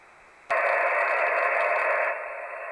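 Receiver hiss from a Yaesu FT-817ND QRP ham radio: a sudden burst of steady broadband static that switches on and holds, then drops slightly in level near the end.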